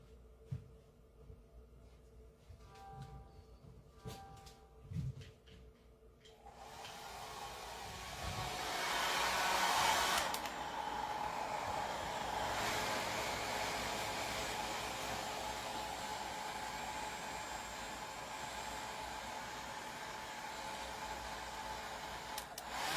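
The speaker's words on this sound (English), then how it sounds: "I'm going to come in with the hair dryer to ensure everything" After some quiet handling noises, a hair dryer switches on and blows with a steady whooshing roar at an even level, spreading crushed glass and resin.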